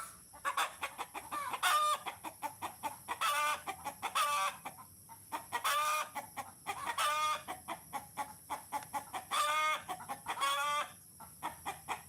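Chickens cluck in repeated loud bursts while a hen gets ready to lay eggs, with raspy calls every second or two against a quiet steady background.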